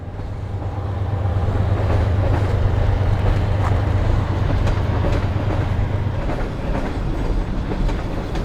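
A train rumbles past close by, a loud steady roar with rattling wagons and clatter that swells and holds for several seconds before easing slightly, with no voices.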